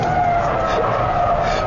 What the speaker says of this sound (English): there's smoke firing out of the back of the car as the inside wheel spins away